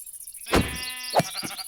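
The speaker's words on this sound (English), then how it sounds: "There's a sheep" A sheep in Minecraft bleats twice, fairly close and clear, the second call shorter, with a faint third bleat trailing after in otherwise quiet surroundings.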